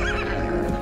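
A mustang horse neighing, a loud close whinny filling the short moment over a dense, full background.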